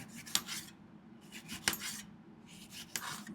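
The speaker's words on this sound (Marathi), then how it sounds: "तर आता सेम टोमॅटोसुद्धा आपल्याला असेच पातळ कापून घ्यायचे" A knife slices a tomato thinly on a cutting board, three soft rasping strokes, each ending in a light tap, close and quiet.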